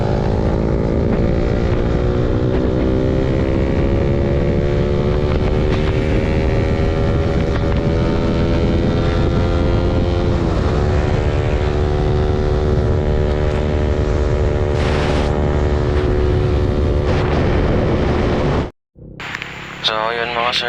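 Several motorcycles, a Honda Click 125, a Raider carb and Yamaha Aerox scooters, ride along a wet road near Rosario, La Union, with a steady loud engine and wind roar and shifting pitch, cut off abruptly near the end.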